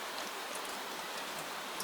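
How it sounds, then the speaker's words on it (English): Gentle rain drips and patters steadily from the tiled roof of an old well on a rainy night in old Edo, soft and continuous with no voices. "The roof of the well ticks with rain."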